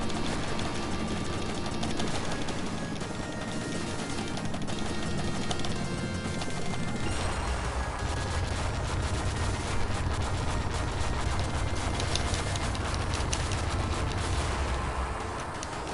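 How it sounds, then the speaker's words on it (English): Retro Famicom Contra gameplay produces a constant barrage of chiptune gunfire and explosion effects over game music, dense and loud throughout with no pause. "Was that enough explosions for you there?"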